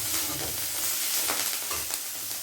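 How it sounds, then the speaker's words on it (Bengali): Flowers fry in oil in a kadai, a close, steady sizzle with soft stirring scrapes and no talking. "কড়াই দিয়ে দিলাম ফুলগুলো, দিয়ে আর ভেজে নামিয়ে দিই"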